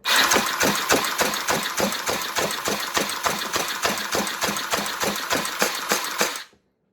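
A Battlemage AEB foam blaster fires a full magazine in one steady burst, a loud close rapid mechanical chatter of about four shots per second for some six seconds before it stops abruptly.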